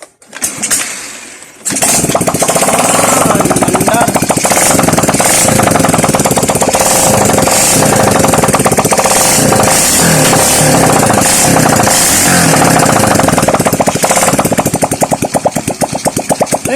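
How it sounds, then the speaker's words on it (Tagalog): A Honda Wave 100 motorcycle engine, which has been giving off white smoke, roars to life after a short sputter, then runs loud and steady with a rough, rapid chugging, close by. "umandar ng motor"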